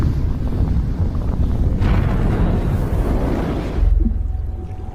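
A film's depiction of the sun exploding, a loud rushing roar of wind and blast that swells midway and then drops to a low rumble, with no voices.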